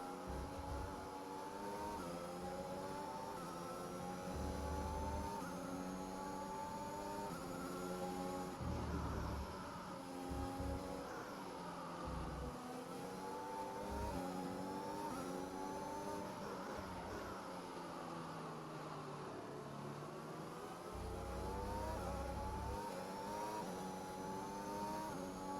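A Formula 1 race car engine in the video game F1 2021 screams and rises in pitch through repeated acceleration and gear shifts, loud and continuous over about twenty-five seconds with no talking.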